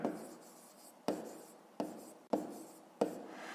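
A pen writes numbers by hand on paper during a fifth-grade maths exercise, five short scratchy strokes in bursts with brief pauses, close and quiet with no talk.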